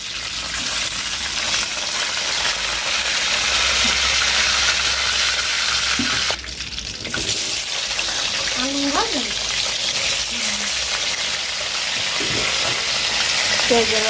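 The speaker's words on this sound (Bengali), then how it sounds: "আলুগুলো একটু ভেজে নেবো তেলের শব্দটা কথা শোনাই যাবে না" Potatoes fry in hot oil in a wok with a loud, steady, close sizzling hiss that runs throughout, with brief stirring and a voice faintly underneath.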